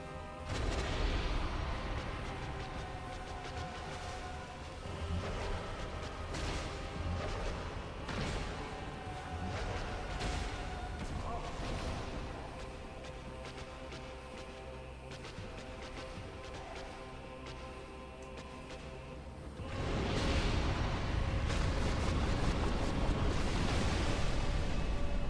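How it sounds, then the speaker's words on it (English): A boss explosion in Dark Souls booms and rumbles as dense, continuous blasts and crashes, with a fresh loud surge near the end. "you can spot the explosion because she hunches over"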